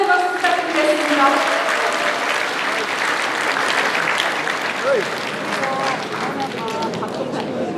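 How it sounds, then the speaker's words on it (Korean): A hall full of party members at a regional political training and inauguration event gives an energetic round of applause, steady and close. Cheering voices and crowd chatter mix in throughout. "우리 정진석 의원님께 다시 한번 힘찬 응원의 박수 부탁드리겠습니다"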